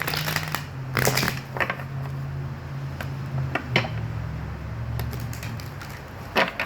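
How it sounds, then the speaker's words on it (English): Tarot cards being shuffled by hand in a quiet room, giving several short papery riffles and slaps spaced irregularly over a steady low hum, close and moderately loud with no talking. "2 more shuffles for Leo."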